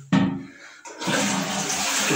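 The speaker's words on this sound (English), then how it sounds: "I'll give it another flush now" A toilet flushing, a sharp click of the handle followed by a brief pause, then a loud rushing swirl of water that continues steadily to the end.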